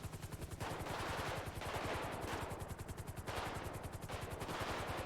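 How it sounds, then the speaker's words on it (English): Sustained automatic gunfire in a GTA FiveM roleplay game, a police officer trading shots with attackers, rapid regular bursts from several guns overlapping continuously at a loud, steady level with no pauses. "There are massive amounts of shooting here."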